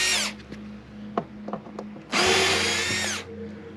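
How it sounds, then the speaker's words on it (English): A power drill backs screws out of the bottom of a hot tub panel on an Artesian South Seas Spas 748L, with a brief whir, a pause with small clicks, then a longer, loud, close high-pitched whine. "Now I'm going to pull the two screws off the bottom of the panel here."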